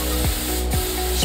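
A compressor spray gun with a 2.5 mm nozzle hisses steadily as it sprays elastic coating, a loud continuous airy rush with faint rhythmic ticks.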